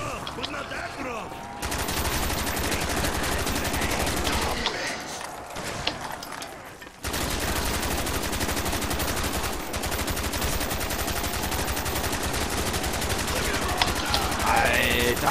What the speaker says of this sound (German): Hat 100 Schuss abgelassen